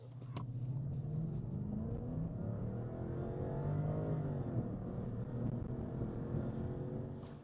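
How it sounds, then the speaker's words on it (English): A car with degraded performance accelerates hard from zero to 60. The engine drones loudly and steadily as it rises in pitch through the run, with a low rumble underneath and no talking. "we're gonna do a zero to 60 time to show the degradation in performance of this car"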